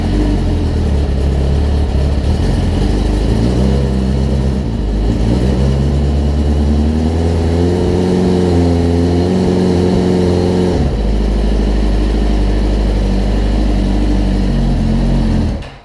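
A homemade side-by-side's engine runs cold and rough after cranking, a loud close steady idle with uneven revving and shifting pitch that surges midway before settling into a lower, steadier drone.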